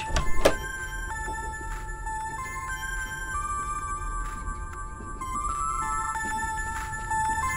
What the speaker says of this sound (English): I think the ringing's coming from in here.